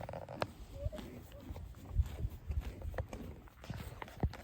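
Soft, irregular hoof thuds of a draft mare walking on ground, fairly close, with light rustling and faint background noise between steps.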